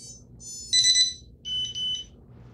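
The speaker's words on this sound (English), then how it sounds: "it does the typical 3 beeps, but then there's also 2 beeps" A sequence of high electronic beeps from a device: a short tone, a longer chirp, then a pair of quick beeps.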